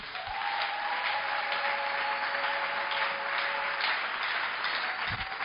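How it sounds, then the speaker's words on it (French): A church congregation applauding during a sermon, steady dense clapping from a large crowd at a constant level throughout. "Acclame cette parole."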